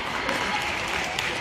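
Audience applause after a school tug-of-war contest between class 11 and class 12 boys, a dense, steady clatter of many clapping hands with no breaks.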